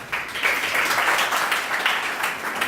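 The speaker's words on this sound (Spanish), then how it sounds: "un aplauso para él" A lecture audience claps for the speaker Germán Comina, a sustained wash of applause that starts slightly softer and then stays steady and fairly loud to the end, with no voices on top.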